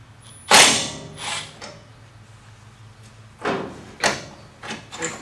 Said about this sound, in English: Just gonna loosen a few of these screws.